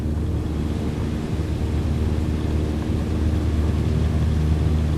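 Simulated light aircraft engine on a takeoff roll in Microsoft Flight Simulator, a steady dense drone with low rumble holding constant throughout, no voices.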